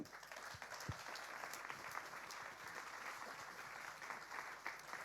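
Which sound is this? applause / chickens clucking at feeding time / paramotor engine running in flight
applause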